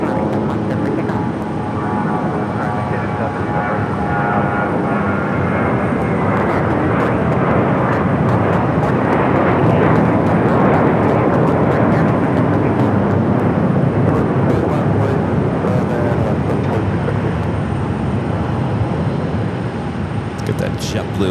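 Airliner taking off from runway 7 left at Phoenix Sky Harbor, a loud, sustained broad jet engine roar holding steady across the clip, with a voice talking over it.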